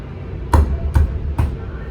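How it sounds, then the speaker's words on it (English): Hand punch driven through a refrigerated trailer's air chute to make a rivet hole, three sharp thumping clunks about half a second apart, close and loud. "Take my puncher and make the hole."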